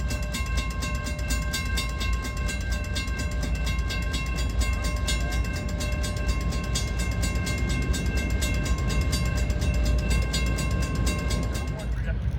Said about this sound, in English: The locomotive will pick them up, then slowly push them back to the rest of its awaiting train.